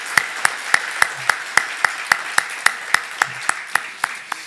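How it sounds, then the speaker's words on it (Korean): A church congregation claps in unison, sharp, even claps falling steadily about three or four times a second, blending into one crisp, moderately loud beat in a reverberant hall. "우리 하나님의 영광의 박수 올려드리겠습니다"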